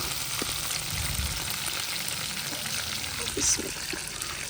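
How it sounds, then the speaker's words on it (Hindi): Okra (bhindi) frying in hot ghee gives a steady, close sizzle with a soft hiss throughout, plus a few faint clinks and stirs. "भिंडियाँ मैं फ्राई कर रही थी"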